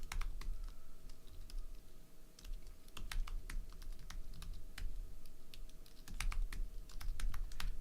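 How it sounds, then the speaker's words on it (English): Typing on a computer keyboard at a steady, quick pace, with sharp key clicks close by and a low hum underneath; no one speaks. "let me continue typing this"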